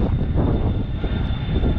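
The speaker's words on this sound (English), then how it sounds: "It's a plane somewhere." Airplane climbing away over Akron-Canton Airport near the MAPS Air Museum, a loud, steady engine roar that holds without break for a couple of seconds.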